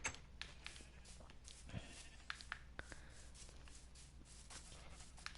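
Sheep in the Minecraft video game bleating a few times amid light clicks and steps, faint and somewhat distant, with no talking.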